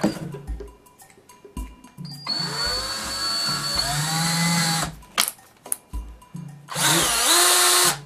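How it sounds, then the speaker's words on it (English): A cordless drill spinning a paint stirrer whirs in several bursts, spinning up to a steady high whine, then stopping, with short pauses and handling clunks between runs. "we're going to stick that in the end of our cordless drill here"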